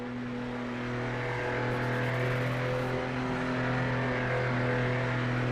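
Race car engine in Project Motor Racing holding a steady, droning tone under throttle, loud and continuous with only slight rises in pitch and no real acceleration build.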